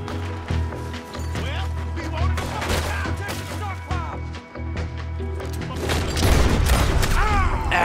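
Pistol shots in Red Dead Redemption 2 crack out in scattered bursts amid a chaotic gunfight, with other game effects around them and a growing barrage near the end.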